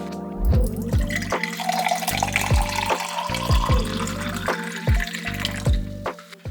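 Kitchen tap running as water fills a glass, a steady splashing stream broken by short pauses, close and fairly loud, with no talking.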